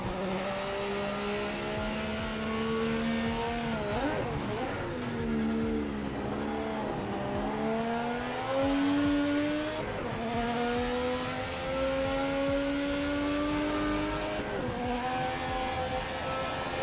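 A car in a racing video game drives steadily, its engine droning with rising and falling pitch as it shifts and turns, loud and continuous throughout with no talk.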